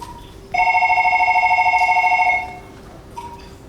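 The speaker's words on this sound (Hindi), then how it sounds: "Sir, bell telephone." An old-fashioned telephone bell rings in one sustained, rapidly trilling burst of about two seconds, loud and close, during a stage play in a quiet room.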